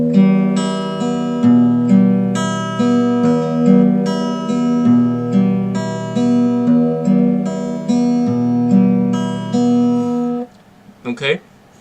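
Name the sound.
guitar playing bass and melody together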